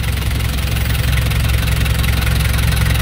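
A surplus Japanese vehicle's engine idles right up close, a loud, steady low rumble with a continuous mechanical hum and no break.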